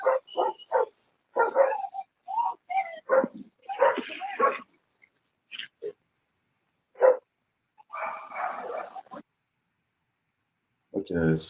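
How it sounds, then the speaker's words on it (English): Dogs bark in a town at night, with irregular bursts of barks, yips and whimpers spread across several seconds, alternating with short silences and some voices. "You hear the dogs, right?"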